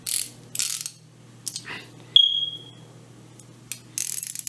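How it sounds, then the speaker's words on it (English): A Craftsman 3/8-inch ratchet from a new tool set clicks in several short, sharp bursts of rapid pawl ratcheting, close and fairly loud, with a brief ringing metallic tone in between and no talking. "This is a 3/8 ratchet."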